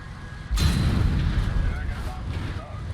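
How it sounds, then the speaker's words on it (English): A HEAT round hits a CV90105 tank in War Thunder: one heavy booming impact with a deep rumbling tail, loud and close, then continuing low rumble. "now go ahead and shoot me with a heat round"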